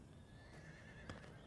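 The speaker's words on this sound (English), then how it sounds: "get that horse out of the way" A horse neighs once, briefly and somewhat distant, behind a steady hum of background noise in a television drama scene.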